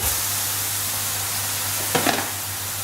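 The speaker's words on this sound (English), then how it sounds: "we're going to chuck in about 1 kilo of the mince straight into the pan" About a kilo of lean mince frying in a hot pan produces a steady, loud, close sizzle, broken briefly near the end by a scraping stir.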